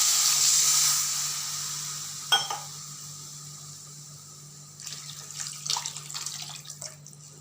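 Water is poured into a pan of masala-coated raw mango gravy with a bright, hissing rush that fades, then a brief clatter, and later a splashy bubbling burst near the end.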